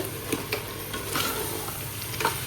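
Prawns sautéing in a pan with onion-spice masala, a steady close sizzle broken by repeated scraping strokes of a spatula stirring, no voices.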